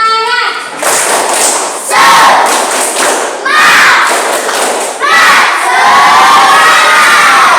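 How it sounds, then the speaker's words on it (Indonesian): Schoolchildren in an Indonesian classroom repeat a clapping spirit chant, loud and energetic, with patterned hand claps and excited collective shouting in several surges, ending in a sustained cheer. "Coba tepuk semangat."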